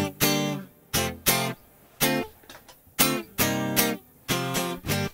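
Clean electric guitar running straight into an audio interface with all processing bypassed, played as a series of strummed chords with short gaps between them, loud and alone with no voices.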